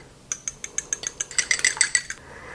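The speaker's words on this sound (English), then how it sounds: "We're just going to take a fork and we're going to whisk this up until it's kind of foamy." Egg white whisked with a fork in a bowl until foamy, a steady run of about a dozen quick, bright metallic clinks, tapping faster and louder toward the end, close up with no talking.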